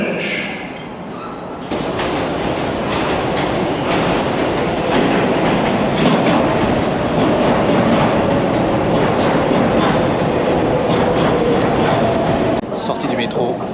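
A Manhattan-bound local 7 subway train in New York rumbles loudly into the station, a steady roaring rush with rattling clatter and a rising whine, echoing on the platform over an automated announcement.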